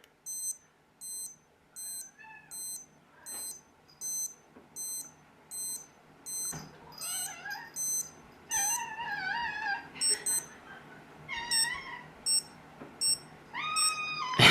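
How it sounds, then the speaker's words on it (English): Breitling Aerospace watch minute repeater giving a long series of short, evenly spaced electronic beeps, faint and close, while a cat meows and yowls over them. "My favorite thing on here is definitely the minute repeater."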